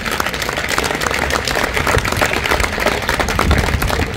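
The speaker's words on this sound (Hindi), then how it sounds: "जोरदार ताली बजाओ अपने लिए।" Students in a coaching centre classroom clap loudly together, a dense, continuous burst of applause that holds steady for several seconds without talk.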